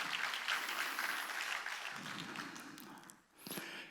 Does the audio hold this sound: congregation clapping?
yes